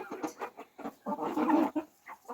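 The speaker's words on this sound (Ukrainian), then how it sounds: "подивіться, біла це як курка доросла, а це є поряд біля неї молоді курчата друзі" A white adult hen and the young three-month-old chicks beside her cluck nearby in a run of short, choppy calls, with one longer, busier burst in the middle.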